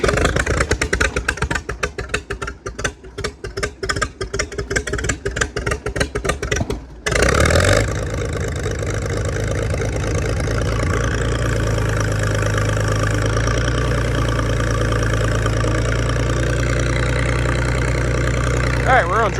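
An International 560 tractor engine, used with a loader, turns over with clattering pulses, then catches and settles into a steady, loud, close idle that runs on alone to the end.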